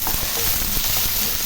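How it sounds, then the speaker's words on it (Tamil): Onion and green chilli sauté in an oil-filled pan with a dense, continuous close sizzle and no talking. "இது நல்லா கொஞ்சம் பச்சை வாசம் போகிற வரைக்கும் நல்லா கொஞ்சம் வதக்கட்டும்."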